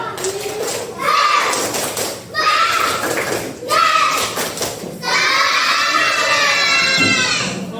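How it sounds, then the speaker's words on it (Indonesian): Schoolchildren in a classroom do a spirit clap chant, shouting in unison in short bursts mixed with rhythmic clapping, loud and close, with a final long sung-out phrase. "Tepuk semangat."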